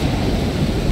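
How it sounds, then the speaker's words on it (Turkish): A storm in the survival video game Stranded Deep, with a dense, loud wash of rumbling thunder and rain noise filling the brief moment without letup. "Böyle fırtına olmaz olsun ya."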